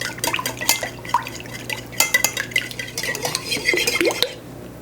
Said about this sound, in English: I'll mix all these ingredients together.